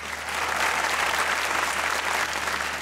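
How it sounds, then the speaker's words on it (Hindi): A studio audience at a comedy talk show gives a brief, even round of applause, dense and continuous throughout, with a low steady hum beneath. "आप सुनीता के लिए ताली होनी चाहिए।"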